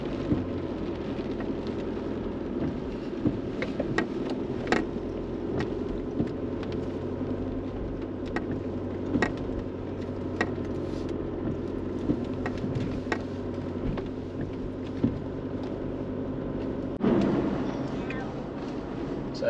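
An Isuzu MU-X 4WD crawling up a steep, muddy, rocky bush track in first gear low range, heard from inside as a continuous low engine rumble with scattered rattles and knocks from the rough ground.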